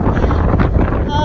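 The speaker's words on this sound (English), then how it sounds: "Get out of this wind and the fog" Wind buffets the microphone on a foggy mountain trail, a loud, continuous rumbling roar with no break, and speech is partly buried under the gusts.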